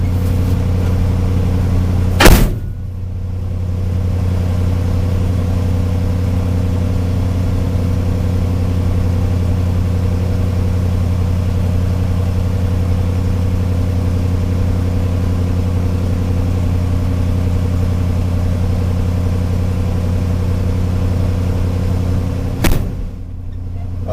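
A truck engine idles steadily after a cold start with a close, constant low rumble. Two sharp knocks break the drone, one near the start and one near the end.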